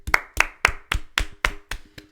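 About eight sharp, evenly spaced hand claps ring out close by in a quick steady rhythm as a welcome-back cheer on a show.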